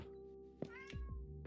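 A cat meows a few times inside a supermarket video game, short harmonic cries rising over a steady background hum and game sounds.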